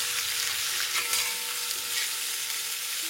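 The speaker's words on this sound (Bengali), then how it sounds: "যেটাকে আপনাদের ততক্ষণ ভেজে নিতে হবে যতক্ষণ এর মধ্যে কালারটা চলে আসছে।" Thinly sliced onions fry in hot oil in a pan, giving a loud, continuous close-up sizzle that hisses evenly throughout, with no one talking.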